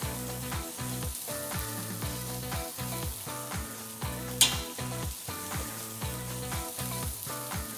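Steak searing over hot embers, a steady sizzling crackle that stays even and close throughout, with one sharp snap partway through.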